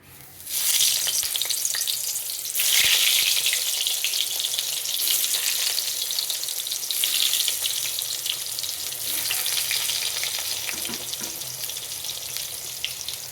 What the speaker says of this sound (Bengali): এইটা আঁচ কমিয়ে বাড়িয়ে ভাজতে হবে, ভাজাটা যাতে ভালো হয়। বেগুন ভাজা হয়ে গেল